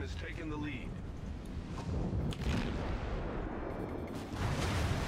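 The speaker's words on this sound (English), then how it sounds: "Taking a hit, straight into the steering gear." Naval shells hitting a destroyer in the World of Warships game, heard as a sustained roar of booming impacts and dull artillery rumble with a sharper hit near the middle, under a speaking voice.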